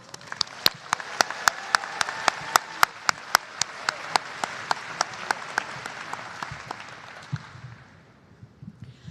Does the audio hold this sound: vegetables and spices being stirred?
no